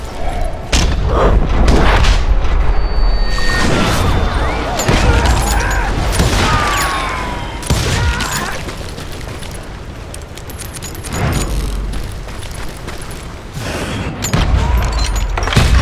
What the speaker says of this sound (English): But now that the shooting had started, there was no backing down.